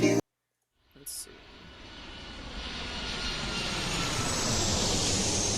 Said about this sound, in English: Genuinely the sound of a plane taking off.